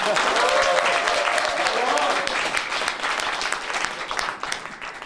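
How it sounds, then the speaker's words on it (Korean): An audience at a by-election campaign office opening in Changwon, South Korea, breaks into steady applause, clapping loudly and evenly for a few seconds before it starts to taper off. "용기 내라고 박수 한번 쳐주십시오"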